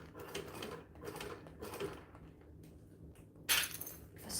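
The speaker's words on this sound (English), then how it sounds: "My top stitching will be a lot slower this time around." A sewing machine top-stitches around the edge of a fabric bag in short, slow bursts of rapid needle clatter separated by pauses, close up and moderately quiet, ending with a sharper clack.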